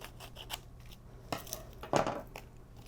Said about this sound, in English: So let's trim our tape closer.